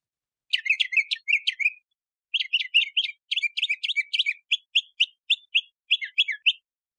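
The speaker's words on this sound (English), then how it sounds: "I'll play three different samples of mockingbird songs" A mockingbird sings alone in bright, varied bursts of chirps and whistles, repeating short phrases with brief pauses between, clear and fairly close.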